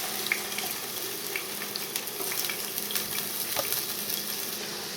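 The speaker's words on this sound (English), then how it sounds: "I will let the potatoes fry on medium heat for about 7 minutes" Potato halves frying cut side down in olive oil in a pan over medium heat, giving a steady close sizzle with scattered crackles and pops throughout.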